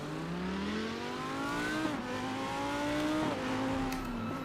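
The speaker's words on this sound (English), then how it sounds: "let's listen also to the Lamborghini in third person first, like yeah, V10 Glory." A Lamborghini V10 race car in the RaceRoom simulator, DTM 2024 content, heard from a third-person view, revs up steadily through the gears with rising, shifting engine pitch and a loud, continuous exhaust roar.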